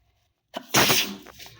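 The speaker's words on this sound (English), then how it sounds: "Oh, sorry, I have been sneezing for a few days." After a brief silence, a single loud, close sneeze bursts out sharply and trails off quickly.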